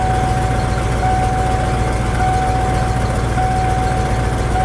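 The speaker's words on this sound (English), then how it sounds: "It's idling a little high." A car engine runs at a slightly high idle after a fuel pump repair, a loud, steady low hum with a constant whine on top, close by and unbroken, with no talking.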